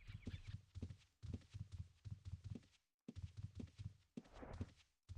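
Rhythmic horse hooves clip-clopping steadily in the video game Ultima Online, a close, repeating gait that pauses briefly twice before resuming.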